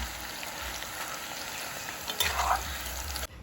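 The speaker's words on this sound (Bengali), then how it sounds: "তাই চেষ্টা করবে অল্প অল্প করে দিয়ে ভাজার।" Banana chips frying in a small amount of oil, producing a steady close hiss and sizzle, with a brief louder burst of bubbling crackle partway through before it drops off at the end, with no talk.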